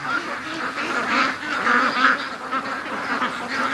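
Free-range ducks quack in a busy, overlapping chorus as a group of them hurries toward a lake in the morning. The calls are steady and close throughout.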